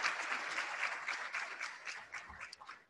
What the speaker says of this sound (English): Please join me in a round of applause for our sponsors and our partners.